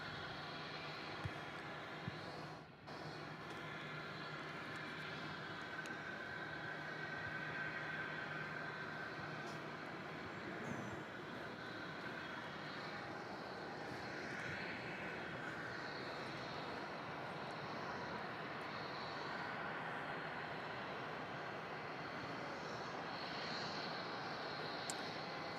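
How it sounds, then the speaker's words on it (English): A Qantas airliner in from Sydney comes in to land at Melbourne Airport, its steady, distant engine roar holding broadly and evenly throughout, with no other sounds standing out. "you've got that Qantas in from Sydney about to come in"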